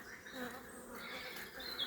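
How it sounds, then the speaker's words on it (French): Honeybees clustered on a hive frame give a soft, steady buzzing hum that stays continuous throughout, fairly faint and close. "il y a un bel amas d'abeilles là"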